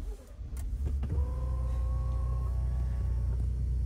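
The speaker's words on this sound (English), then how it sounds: "Push button start." A 2021 Ford F150 Lariat pickup starting by push button: a brief crank at about one second, then a steady low engine idle that continues with a faint whine above it, heard close from inside the cab.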